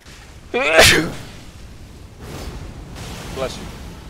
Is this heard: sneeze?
yes